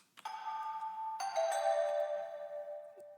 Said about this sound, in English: I have a little bell that plays this as well.